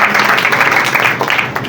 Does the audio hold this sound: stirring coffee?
no